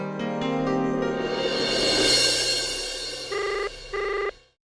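An electronic telephone ringtone, a melodic tone swelling over a backing chord, then two short distinct ring bursts near the end before stopping, fairly loud with no talk.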